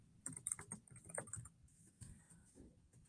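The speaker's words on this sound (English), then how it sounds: "Let me type a little thingy right now." Soft, scattered keystrokes tap on a computer keyboard in quick irregular bursts, faint and close, with brief pauses between clusters.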